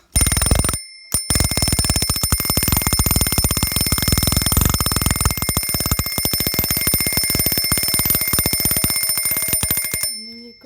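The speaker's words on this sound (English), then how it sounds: "So I'm going to demonstrate the alarm now and bring the hour hand on there forward." A vintage Yugoslav Eurastyle double-bell copper alarm clock rings close up, a loud continuous metallic clatter of rapid hammer strikes that stutters briefly near the start, then runs for about nine seconds before being stopped.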